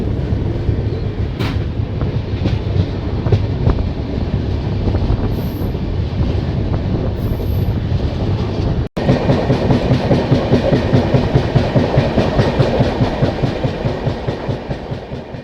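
The New Delhi–Malda Town Express runs along the line with a steady rumble and rhythmic clickety-clack of wheels over rail joints, heard from on board with some wind buffeting. The clatter grows denser in the second half.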